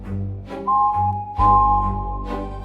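A steam engine whistle sounds in two long, steady tones separated by a short gap, loud and close, with soft breathy noises around them.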